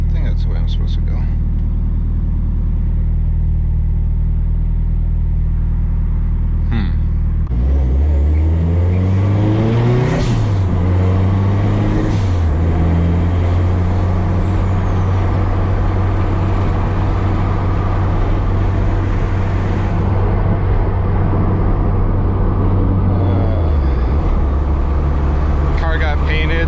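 A 500 hp SR20DET turbocharged four-cylinder car engine drives on public streets, idling with a low rumble before revving up hard through rising and falling pitches, loud and close from inside the car, then settling back near idle.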